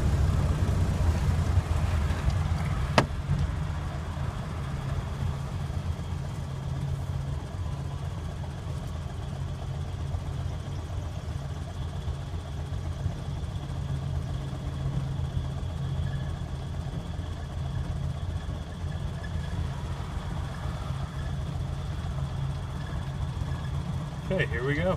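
A 1928 Ford Model A Tudor sedan engine drops to a low steady idle as the car comes to a stop, a deep continuous rumble held for a long stretch with someone talking over it.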